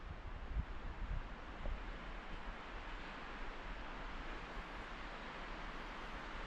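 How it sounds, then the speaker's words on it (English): Wind buffets the microphone in a constant low rumble, with a few gusty thumps early on and no other sounds standing out, on a mountain trail overlooking Moosehead Lake, Maine. "It's kind of windy"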